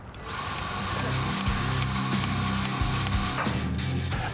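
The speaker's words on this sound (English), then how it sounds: "And now we're going to apply grease to the top of the elevation cylinder." A grease gun pumps grease into the top of the elevation cylinder on a Century heavy-duty integrated wrecker, making a loud, steady mechanical whirr with shifting low tones throughout; no one talks.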